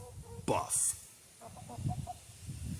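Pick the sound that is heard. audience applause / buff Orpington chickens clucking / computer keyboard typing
buff Orpington chickens clucking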